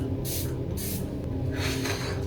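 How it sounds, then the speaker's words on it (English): Skincare setting spray misted onto the face in short bursts, two quick hissing sprays early, then a longer double spritz near the end, close and crisp over a low steady background. "We're gonna put this on again for a little done refresher, like a skincare setting spray."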